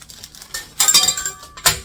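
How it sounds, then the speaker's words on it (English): Metal screw bands clinking against glass canning jars as they are fitted on, a few sharp bright clinks and rattles spread over a couple of seconds, close by. "And I'll go ahead and put my screw bands on."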